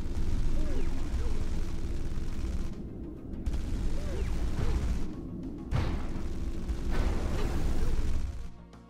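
Autocannons fire in a Stellaris space battle, a dense, continuous stream of low rumbling shots and booms with a few brief pauses, steady and fairly loud, with a voice speaking over part of it.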